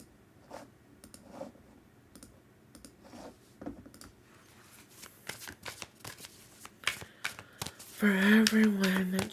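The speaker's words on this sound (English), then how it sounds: "Let's grab your cards and start shuffling." Tarot cards being shuffled in a series of crisp riffling bursts, soft and close, with a brief louder flurry of handling at the end and a quiet voice present.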